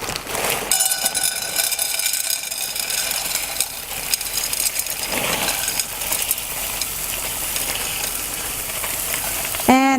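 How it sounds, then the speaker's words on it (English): Frozen corn kernels roasting in a dry pan over medium-high heat with no oil, a steady crackling sizzle and hiss across the whole stretch, with a brief scraping stir near the end. "I put the heat on about medium high, and as the corn thaws, the skin roasts a little bit"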